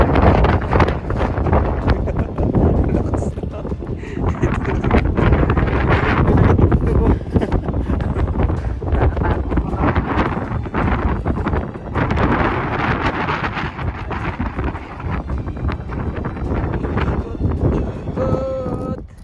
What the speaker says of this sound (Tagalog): Marami yung lakas sa hangin.